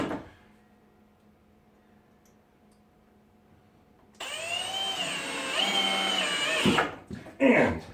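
A power drill drives screws into wood blocking inside a shed being converted into a tiny home. Quiet room noise gives way to a loud, sustained whine that rises and dips in pitch, then clattering bursts at the end.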